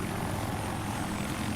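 A Battlefield 4 video game helicopter idles with its engine and rotors running, giving a constant, even low whir and whine that fills the short stretch alone, with no talk over it.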